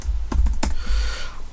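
Quick keystrokes tap on a computer keyboard during music production work, a short burst of three or four close, crisp clicks followed by quiet.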